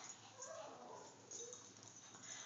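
Dogs whimpering and yipping softly, faint high whines rising and falling over a quiet background hiss, with no talk.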